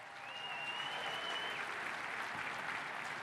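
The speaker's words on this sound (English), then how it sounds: "Please join me in a round of applause for the best band in the land, Tennessee State University's Aristocrat of Bands" Arena audience applauding Tennessee State University's Aristocrat of Bands at a metro address event: a continuous wash of distant, fairly faint clapping from a large crowd, with a thin sustained tone briefly floating above it.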